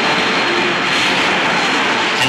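Jet aircraft noise aboard the aircraft carrier Constellation, a continuous loud broadband roar of jet engines that carries on without a break throughout.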